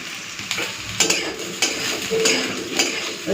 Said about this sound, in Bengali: তো আলুটা একটুখানি ভেজে নিই তারপরে কয়েকটুকু বেগুনও দিয়ে দেবো